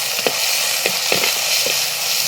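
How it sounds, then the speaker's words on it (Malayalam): Chopped tomatoes hiss and sizzle loudly in a hot pan, with a few distinct scrapes of a spoon stirring them at irregular intervals and no talking. "ഇനി ഇതിലേക്ക് അരിഞ്ഞു വെച്ച് തക്കാളി കൂടി ഇടുന്നുണ്ട്. ഇതും കൂടി ഒന്ന് വയറ്റിയെടുക്കുക."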